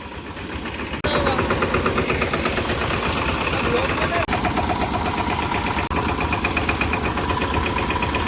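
A large farm tractor used for spraying a cumin field catches about a second in, then its engine runs loud and close with a steady, rough chug throughout.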